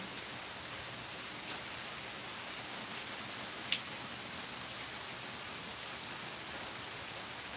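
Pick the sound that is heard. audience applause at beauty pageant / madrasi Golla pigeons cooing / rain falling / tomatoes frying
rain falling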